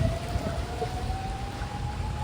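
Steady rain falls over a deserted roadside near a metro line, a constant close hiss with a thin, slowly rising tonal whine running through it. No voices are heard.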